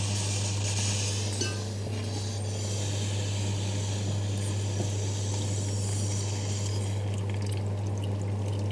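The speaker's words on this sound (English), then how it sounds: "I'm just going to add the water now." Water poured into a pot of rice and lentils cooking into Bangladeshi khichuri porridge, a steady continuous splashing pour over a low kitchen hum, with no talking.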